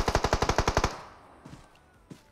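Automatic gunfire in the mobile battle royale game PUBG Mobile: a rapid burst of about nine loud, close shots, then a fading tail and two faint, distant single shots.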